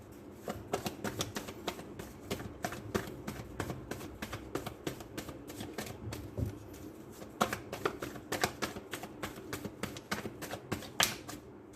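Tarot cards being shuffled, a soft, close run of rapid riffling flicks and taps repeating in uneven bursts with no talking.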